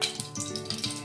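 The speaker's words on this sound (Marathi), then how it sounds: "आता थोडं तूप टाकायचं आणि डिंक तळून घ्यायचा." Edible gum (dink) frying in ghee for methi ladoo: a steady close-up sizzle with soft crackling pops, no talk.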